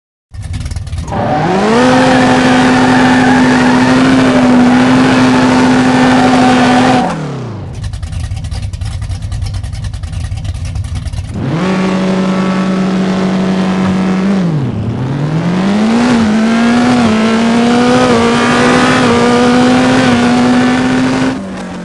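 A drag car in No Limit Drag Racing 2.0, running an all-motor tune, roars loudly down the strip, its engine pitch climbing through the gears. After a brief lull, a second run follows with another rising, shifting howl. No voices.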